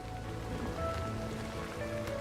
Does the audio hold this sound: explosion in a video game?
no